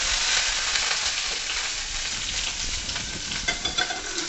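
Stuffed green chillies fry in a covered pan, giving a dense, even sizzling hiss throughout with a few faint crackles and pops near the end.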